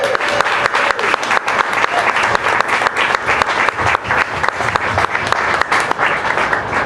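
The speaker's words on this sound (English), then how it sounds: "Please give them a round of applause right now" Loud, sustained applause from a live music venue audience, with rippling, uneven bursts of clapping throughout.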